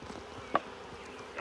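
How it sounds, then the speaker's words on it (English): A swarm of honeybees clustered on a branch gives off a faint, steady insect buzz, with one short louder tap or rustle partway through and a slight swell at the end. "What I'd like to do is shake these bees all down."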